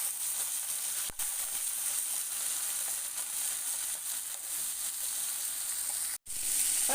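Boiled corn kernels stirred into frying onions in a pan: a continuous even sizzling hiss lasting throughout, briefly dipping twice, with no talking.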